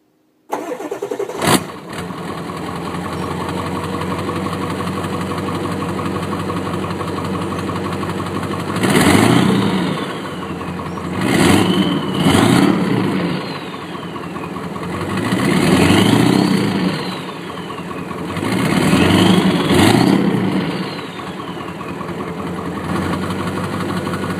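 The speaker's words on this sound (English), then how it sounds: "here's going to be an exhaust clip." A 2001 Ford F250 with a 7.3 Powerstroke diesel and an S&B cold air intake idles with a steady low exhaust drone, then revs up four times with rising and falling swells, close and loud.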